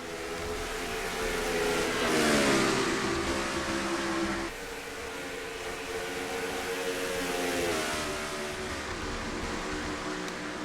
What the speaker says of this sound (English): Gotta love the sound of these cars getting up to speed.